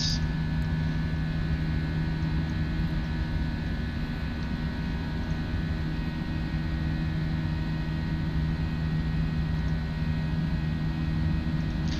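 Airbus A320 jet engines at climb power in a Prepar3D flight simulator, rendered as a constant broad roaring drone with a steady low hum, unbroken throughout.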